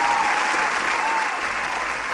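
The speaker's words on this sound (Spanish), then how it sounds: "Fuerte el aplauso," Steady applause from a crowd, a dense wash of clapping hands that holds at an even level for a couple of seconds.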